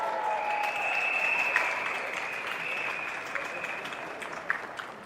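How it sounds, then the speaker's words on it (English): Crowd at an outdoor political campaign rally in Singapore applauds the policemen on duty, sustained clapping with a faint tonal hum running beneath it. "Give them a round of applause."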